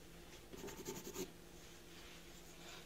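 A pencil scrubs colour onto a marker illustration of furniture, a short burst of soft rapid scratching strokes lasting under a second, faint and close, then quiet.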